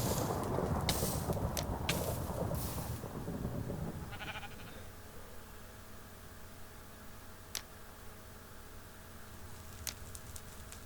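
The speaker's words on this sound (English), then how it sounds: "That's me trying to cook a sheep." Sheep bleating in a modded Minecraft survival game, a few short calls near the start over dense game noise and crackling, then quieter ambience with occasional faint clicks.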